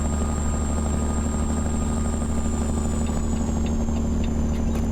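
A Kenworth W900 truck engine in American Truck Simulator labouring under heavy throttle at low revs, a loud, steady diesel drone with a deep rumble and a thin high whine that stays constant throughout.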